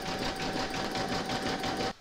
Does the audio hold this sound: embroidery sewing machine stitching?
yes